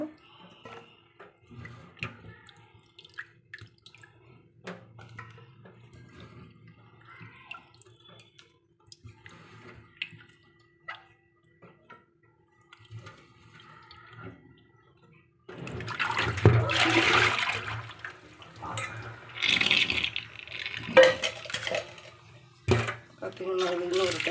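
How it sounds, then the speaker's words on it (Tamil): Tap water runs over cut potatoes being washed for crispy French fries. It is faint and sparse at first, then a louder rushing, splashing stream fills the second half while someone talks. "கொஞ்சம் அதிகமாகவே தண்ணி நல்லா வச்சுட்டு இதை கழுவி எடுத்துக்கோங்க"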